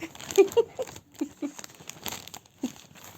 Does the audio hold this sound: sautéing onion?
no